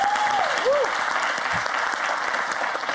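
Audience applause welcoming a guest on a French television game show, a steady, dense roar of clapping from a studio crowd, loud and continuous, with a brief voice near the start.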